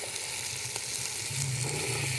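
Kideri sizzles steadily in a pan with fried onions and tomatoes, a close, even hiss and crackle with a low hum underneath and no talking.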